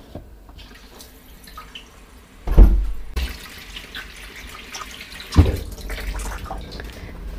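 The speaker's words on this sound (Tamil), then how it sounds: "ரெட் சைடு திருப்பினா ஹாட் வாட்டர் வரும்," A tap in a Japanese apartment with hot and cold handles runs steadily into a sink, with two heavy knocks from the handle or basin partway through.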